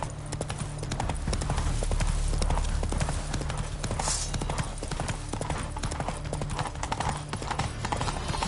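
Roach, Geralt's horse in The Witcher 3, trots with steady, rapid clip-clop hoofbeats over ground, close and continuous alongside a low game ambience.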